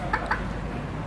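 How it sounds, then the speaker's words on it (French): Chickens in Guadeloupe give two short clucks close by over a steady outdoor background hum. "C'est fou tous les poulets qu'il y a ici."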